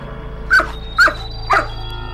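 Three sharp dog barks, evenly spaced about half a second apart, fairly close, over a low steady background hum.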